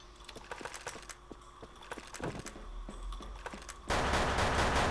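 Rapid gunfire in the online shooter WolfTeam, short bursts of clicky game shots mixed with keyboard taps, ending in a louder noisy blast of game sound, no talking.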